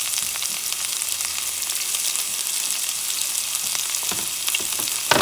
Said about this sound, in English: I'm going to add the onion. Pepper. And I'm going to add the culantro and cilantro.